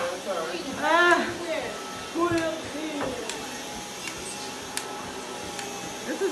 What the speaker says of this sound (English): Buy a cordless power vacuum. He just walks around and push it.